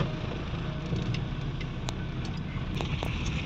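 A pickup truck carrying villagers pulls away, its engine a steady close rumble with broadband road noise and a few faint clicks over the short stretch, no voices.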